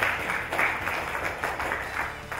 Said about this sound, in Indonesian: Tepuk tangan dulu bagi kita semua